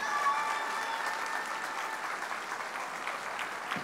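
An opening-ceremony audience at the 2019 WAC in Châteauroux claps for the Czech team, a sustained wash of many hands at moderate distance, steady and slightly fading toward the end.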